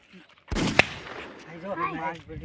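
A single sharp gunshot-like bang from a gun in a village comedy skit is followed by a second crack. Voices then talk over the fading noise.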